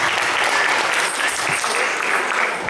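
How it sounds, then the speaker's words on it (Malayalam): An audience claps together in a sustained, dense burst of applause, loud and close for the whole stretch, with no talk. "എല്ലാവരും കൈയടിച്ചേ."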